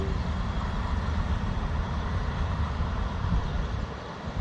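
A steady low rumbling roar as a train rolls past on nearby trackside, loud and continuous for the whole stretch with no voices.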